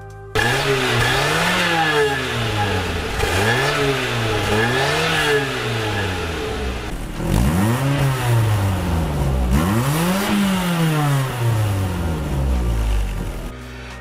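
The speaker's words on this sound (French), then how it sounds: "La 100NX, il y a des petites choses qui arrivent, échappement qui a été changé pour gagner un peu en sonorité" A Nissan 100NX with a modified aftermarket exhaust revs repeatedly, each loud close blip rising and falling in pitch, with a few longer pulls toward the end and no talking.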